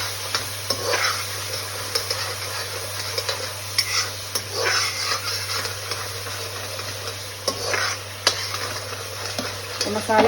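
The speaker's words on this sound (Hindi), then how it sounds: "तो मसाला बड़ी जल्दी भुन जाता है ये वाला।" Spice masala with salt sizzles in hot oil alongside fenugreek leaves in a pan for a green onion dish, with steady frying hiss and repeated scraping stirs close by; no one speaks.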